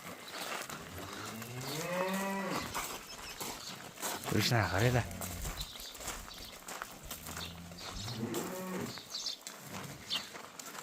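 Cattle on a livestock farm moo in several long, drawn-out calls, loud and close, interleaved with people talking nearby in an outdoor market-like setting.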